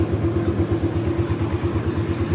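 A Suzuki Shogun SP motorcycle engine idles steadily and close by, a smooth low pulsing putter with a faint mechanical clatter and no talk.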